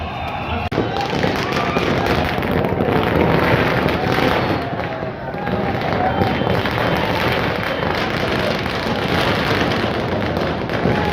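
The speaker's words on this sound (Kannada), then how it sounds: "ಚಿತ್ರಮಂದಿರದ ಬಳಿ ಪಟಾಕಿ ಸಿಡಿಸಿ ಅಭಿಮಾನಿಗಳ ಸಂಭ್ರಮಾಚರಣೆ" Firecrackers set off by celebrating fans outside the Gurushri cinema in Mandya, a dense unbroken crackle of rapid pops and bursts for the whole stretch, loud and close, with crowd noise mixed in.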